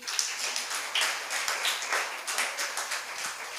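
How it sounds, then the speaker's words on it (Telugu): A church congregation claps for Jesus during a worship service, steady dense applause from many hands filling the room, fairly loud and continuous throughout. "ఈ సమయాన్ని ఇచ్చిన యేసయ్యకి ఒకసారి చప్పట్లు కొట్టండి"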